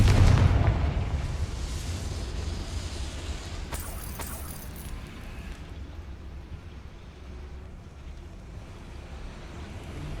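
A Confringo spell explosion in the video game Hogwarts Legacy, a loud rumbling blast at the start that fades into a long, low roar of debris and swirling wind.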